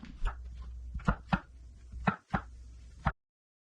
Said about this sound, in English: So I've got to spend some time cutting these mushrooms